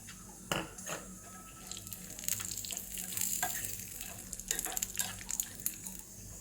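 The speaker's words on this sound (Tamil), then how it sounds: "இது ஏற்கனவே வறுத்த வேர்க்கடலை தான். நான் இது கூடவே முந்திரி பருப்பும் போடுறேன்." Roasted peanuts and cashews frying in a pan give a soft sizzle with occasional stirring scrapes and light clatter, heard close and fairly quiet with no voices.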